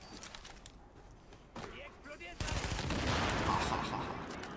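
A grenade bursts amid gunfire in the shooter game The Division, with a sudden loud blast and sustained rumbling roar after a stretch of scattered shots, all under a person talking.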